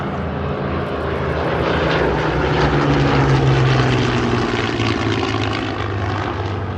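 Propeller-driven Hawker Hurricane and Supermarine Spitfire fighters fly past at an airshow, a loud, sustained engine drone that swells and fades slightly over several seconds with no talk.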